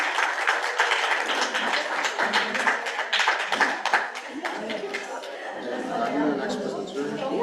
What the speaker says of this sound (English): Let's give another round of applause to Vicky.